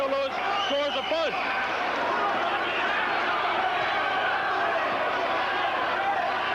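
Boxing crowd at a WBA cruiserweight title fight between Ossie Ocasio and Young Joe Louis, a broad steady roar of cheering spectators, with a commentator talking over it at the start.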